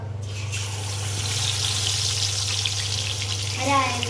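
Karimeen river fish frying in hot oil, a steady close sizzle and crackle running throughout, with a brief voice near the end.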